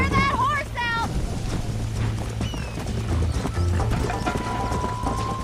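Horse hooves clip-clop steadily through a gallop in the Red Dead Redemption video game, with a horse whinny near the start, a steady wind and music bed underneath, and voices talking throughout.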